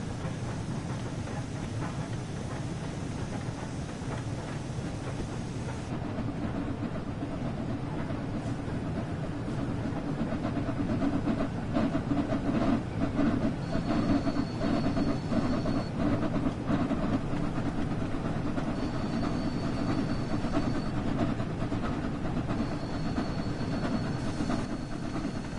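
The Flying Scotsman steam locomotive in Train Sim World 4, its safety valves repeatedly lifting, runs with a steady, continuous rumble and hiss of rolling stock, with occasional thin high tones above the drone and no talking.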